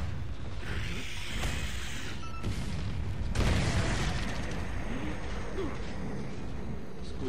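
In the Gears of War 3 game, a cannon fires and its shots explode with booming bursts and rumbling impacts over busy battle noise, while a player talks quietly underneath.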